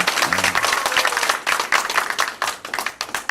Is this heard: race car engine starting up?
no